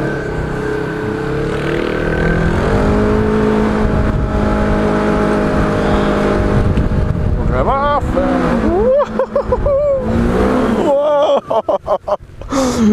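A Polaris RZR XP 1000 side-by-side drives in two-wheel drive on a snowy winter forest trail, its engine droning steadily and then revving and surging in uneven bursts, loud and close.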